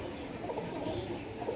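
Lal Chameli pigeons giving low, steady cooing close by, a continuous murmur of throaty calls.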